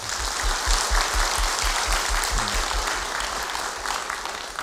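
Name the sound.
church congregation applause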